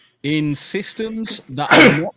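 Someone speaks briefly, then lets out one loud, sharp sneeze near the end, close to the microphone.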